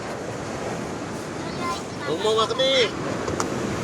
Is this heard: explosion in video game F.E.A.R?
no